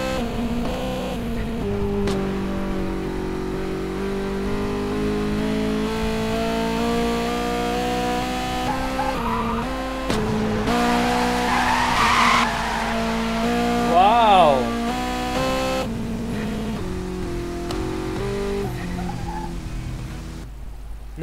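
Need for Speed racing cars roar and rev steadily, with a brief tire screech partway through and a voice talking faintly underneath.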